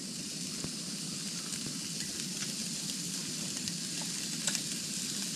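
Sausage fries in a pan with its fat melting, giving a steady, dense sizzle and crackle throughout with occasional sharper pops, heard close and alone.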